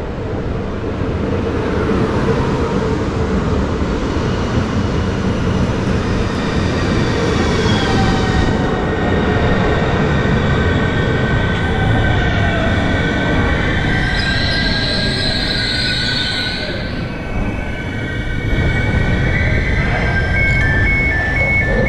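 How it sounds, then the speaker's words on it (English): An ICNG intercity train rolls steadily into Amersfoort station, a loud constant rumble with rising and falling wheel squeals over its length, heard from inside, no voices. "now we can take a look at the arrival of my train in Amersfoort"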